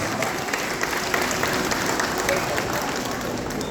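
Audience clapping at a tourism department event in North Luzon, a loud, sustained wash of dense applause from a large crowd, with a voice faintly audible beneath.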